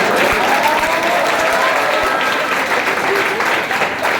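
Loud, sustained clapping from an audience at a prize-giving ceremony for top students, dense and continuous throughout, with a faint voice or tone mixed underneath.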